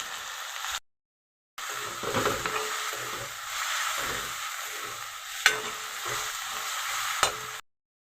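Tomatoes fry in a pan with turmeric and salt while being stirred, giving a continuous sizzle with repeated scraping strokes, two sharp clicks and a brief silent gap near the start.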